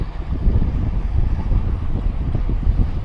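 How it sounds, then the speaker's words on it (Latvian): Strong wind roars by the sea in Hong Kong, a continuous low buffeting rush with gusts battering the microphone, no voices heard, loud and close throughout. "Vējš baigi negantais."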